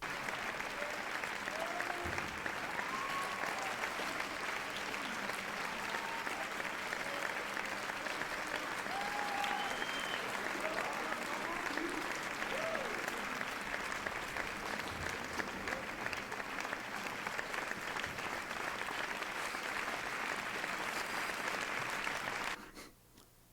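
Sustained applause fills a room during a game awards stream, a steady wash of clapping with faint pitched whistle attempts scattered through it, before cutting off abruptly near the end.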